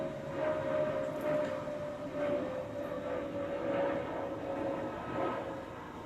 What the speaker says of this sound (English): sorry about the plane, you guys, I am outside.